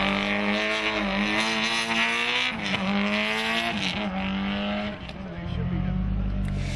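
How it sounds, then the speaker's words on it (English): A 1997 Subaru WRC rally car, Colin McRae's winning car, is driven hard on a special stage, its engine loud and close as it revs up and shifts through rising and falling pitches, with a commentator's voice over it. "The example here this weekend is McRae's 1997 RSC Rally winning car."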